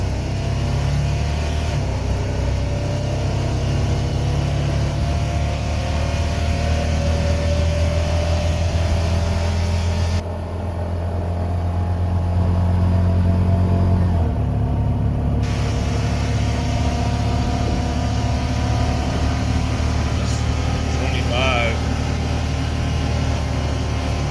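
Honda Pioneer 700-4 Deluxe UTV engine pulling away after an oil change, a steady low engine drone that rises and shifts as the vehicle drives off, fairly close and continuous with no talk.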